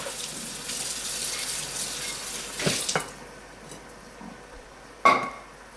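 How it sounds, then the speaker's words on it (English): Water runs from a tap into a sink while a bowl is rinsed and scrubbed. The flow is steady and fairly close, with a few clatters and splashes and a sharp knock near the end. "So we wash the bowl."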